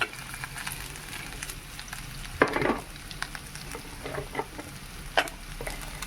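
Dried prawn and mango curry frying in a pan: a steady, close sizzle with a few louder bursts of stirring and spattering scattered throughout. No voices.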